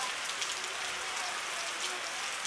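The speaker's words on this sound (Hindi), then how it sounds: "मॉर्निंग से बारिश हो रही है भाई, अनकंटिन्यूसली बारिश चल रही है, कंटिन्यूसली बारिश" Heavy monsoon rain pours continuously, a dense even hiss of drops striking surfaces with no break.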